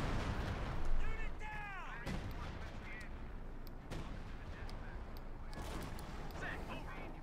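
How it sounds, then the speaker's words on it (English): Artillery fire in a WWII strategy video game, with repeated booming blasts and scattered shots spread across several seconds in a busy battle mix, while a voice talks over it. "Artillery calling on the Battle Group headquarters as well."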